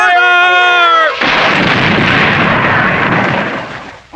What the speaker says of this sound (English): I'll blast them with the cannon.